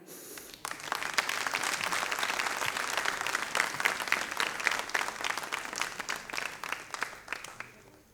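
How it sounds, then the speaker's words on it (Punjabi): At a televised New Year's celebration marking a Punjabi channel's 25th anniversary, an audience claps after a ceremonial lamp is lit. The applause rises quickly and holds as a loud, sustained rattle of many hands for several seconds before thinning slightly at the end. "ਸੋ ਤੁਹਾਡੀਆਂ ਜ਼ੋਰਦਾਰ ਤਾੜੀਆਂ"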